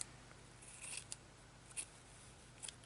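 Scissors snip off a loose thread end while finishing a handmade journal, a few faint, crisp cuts in a quiet room.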